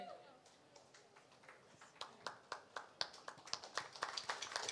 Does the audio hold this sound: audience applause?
yes